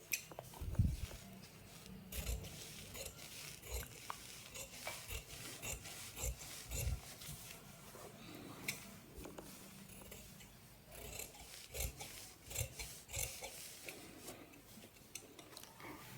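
Scissors cutting churidar fabric, trimming the excess along a side seam; quiet, close rasping and rubbing snips with scattered ticks repeat steadily, alone without talk.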